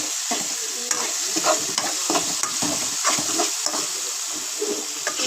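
Food frying in a pan with salt added, stirred and mixed with a spatula: a steady loud sizzle with repeated scraping strokes in an uneven rhythm, close by, with no talking.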